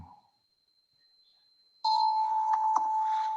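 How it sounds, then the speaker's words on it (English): A bell chime sounds at a Rotary club social event, a single sustained electronic tone that starts suddenly after near silence and rings steadily to the end. "Oh, the bell."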